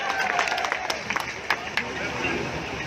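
A rally crowd gives short bursts of clapping mixed with cheering and general hubbub, loud and close, with voices over the top.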